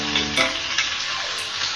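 Onions sizzling in a pan with chopped green chillies and salt for Bengali peyaj posto, a loud, close, steady crackle with brief stirring scrapes.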